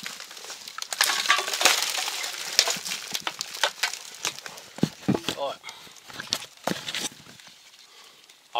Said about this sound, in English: Right, there's glass, broken glass.